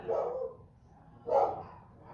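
Two separate bursts of a female dog barking indoors, reacting to someone passing by the door, the first near the start and the second about a second later; each is fairly close and loud, with a quiet room in between.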